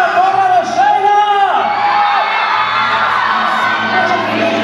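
A crowd at a Flor Más Bella beauty pageant in Zacapoaxtla cheers loudly for a contestant named Sheila, with high shouts and whoops rising over a dense, steady roar of voices.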